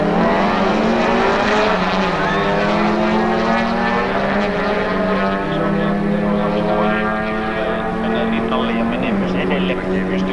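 Naturally aspirated drag racing cars, including a black Ford Escort with a maximum 4-litre engine, roar loudly and continuously at full throttle, the engine note holding high and shifting pitch through gears, with an announcer talking over it.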